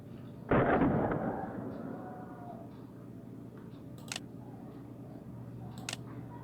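An HK MP5K or CZ Scorpion Evo 3 airsoft gun fires a single crisp shot up close, followed by a short decaying ring, then a couple of faint mechanical clicks.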